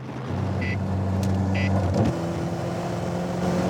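A car accelerates hard on a French motorway while weaving between traffic at over 190 km/h, a steady close engine drone whose pitch climbs and then holds, with no talk.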